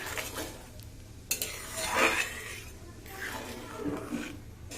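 Lentil dal with salt and a half teaspoon of sugar bubbling in a pot on the stove, with soft stirring and scraping and a few clinks of a spoon against metal, close and moderately quiet, no talking.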